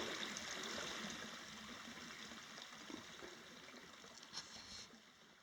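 Faint, gentle trickling of a flowing creek in Domingo Baca Canyon, Sandia Mountains, New Mexico, a soft continuous burble with a few slightly louder splashes near the end.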